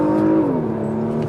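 Engine of a 2019 Porsche Macan S facelift rising hard under acceleration, a loud droning tone that climbs and then steadies with a slight dip, heard from inside the car.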